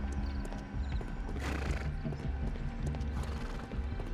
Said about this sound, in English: The poor horses, man.